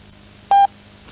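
A single short pure beep sounds as the time signal of a 1978 speaking clock. It is clean and steady and lasts about a sixth of a second over faint background hiss.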